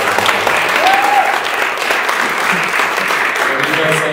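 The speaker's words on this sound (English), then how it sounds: "And that's really applause right" A congregation at a Sunday service applauds a featured musician, steady full applause filling the room from start to finish, with faint talk underneath.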